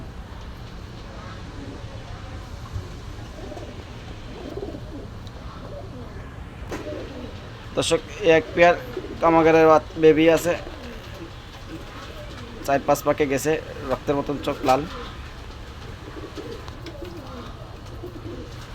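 Pigeons at a Khulna pigeon sale, Pakistani and local breeds, give soft bursts of cooing in the middle and later part, heard alongside someone talking over steady background noise.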